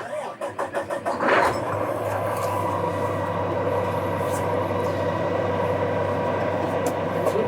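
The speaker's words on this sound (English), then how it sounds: "I'll just start up the engine quick" A 2024 Kenworth T680 truck engine cranks in a quick rhythmic burst, catches with a loud flare, then settles into a steady low diesel idle that runs on close by.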